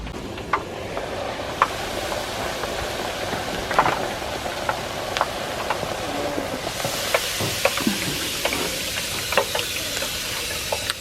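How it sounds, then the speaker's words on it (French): Homemade french fries frying in oil outdoors in a garden, a steady soft sizzle with scattered crackles and pops that grows a little brighter partway through, no voices. "je suis en train de faire les frites dans le jardin parce que les odeurs de friture je supporte pas"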